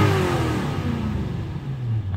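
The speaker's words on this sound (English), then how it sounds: "Give it some gas, see if it does it." A Lexus LS400 with faulty ECU capacitors revs its engine, a steady close mid-pitched drone whose tone rises and falls through the throttle blip, with no talking.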